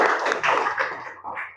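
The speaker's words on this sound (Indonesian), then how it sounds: "Tepuk tangan semuanya." Brief wash of audience applause at a classroom group-presentation session in an Islamic religious education teacher-training assessment, steady and close for about a second before tapering off.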